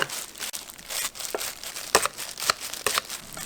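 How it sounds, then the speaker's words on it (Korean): Scissors snip kimchi into small pieces for triangular kimbap filling, giving wet crinkly crunches with a few sharper cuts near the end, close up and without voices. "김치는 일단 가위로 이렇게 조그맣게 잘라주세요."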